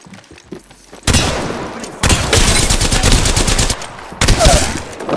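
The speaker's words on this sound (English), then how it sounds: "That man just tried to charge rifle you" Charge rifle fire in the shooter Apex Legends, loud, close bursts of blasting gunfire in roughly three long stretches with short gaps between them, and no talk.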